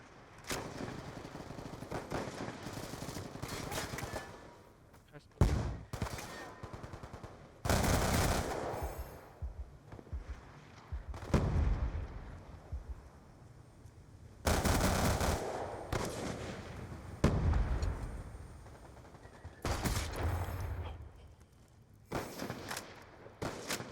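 Bursts of video game gunfire from a troublesome gun in hardcore mode, fired in several loud separated volleys with brief pauses between, no talking over them.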